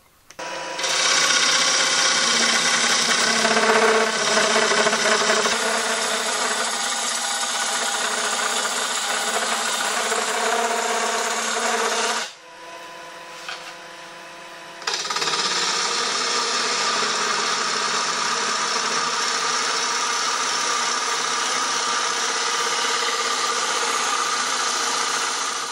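A wood lathe spins a wooden bowl while a tool makes long turning cuts, giving a steady, loud motor hum with cutting noise that drops briefly midway before resuming, with no talking.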